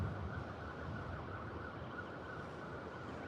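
An intensive care ambulance siren wails continuously as it passes along a coastal road in wild, rainy weather. The wail is steady and sustained, heard from a moderate distance, and no voices are heard.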